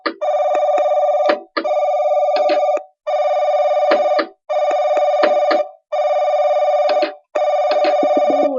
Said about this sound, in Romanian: Dar urât sună telefonul